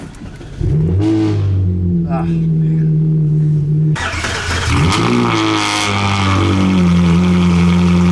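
A Ferrari 458 V8 engine cranks and fires up, then revs high and settles into a loud idle before another sharp rev; someone speaks briefly over it.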